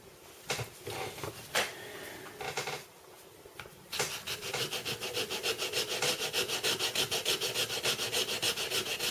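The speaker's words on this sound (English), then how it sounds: "Tiny bit of sanding" Plastic model kit parts being sanded by hand, first a few short separate rubs, then a steady rapid back-and-forth scrubbing rhythm, close and fairly quiet with no talk.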